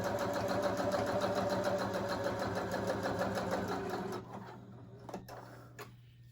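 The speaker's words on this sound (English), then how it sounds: "we're going to stitch the sides or the pieces together" A beginner sewing machine stitches fabric pieces together with a steady, rapid mechanical chatter for about four seconds, then stops, leaving a low hum and a few faint clicks.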